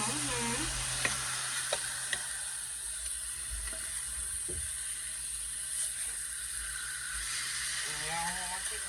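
Chicken frying in a pan for a creamy pasta dish, a continuous close sizzle with a few light scrapes and clicks of utensils.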